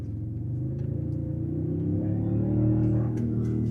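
Twin-turbo V6 hybrid engine in a 2026 Toyota Tundra under hard acceleration, a deep, steady rumbling drone that builds gradually in loudness and pitch across several seconds, with no talking.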